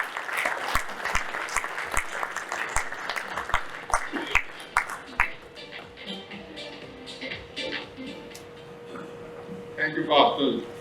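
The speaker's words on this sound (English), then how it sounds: "And I think the man deserves a big round of applause." An audience at the Mumbai Water Conclave inaugural session applauds to welcome a speaker. Steady clapping from a crowd in a hall lasts throughout, with a few sharp individual claps standing out and a voice rising near the end.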